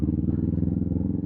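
A Kawasaki Z400 motorcycle engine hums steadily during a solo ride, a close, continuous low drone with an even pulsing rhythm and no voices.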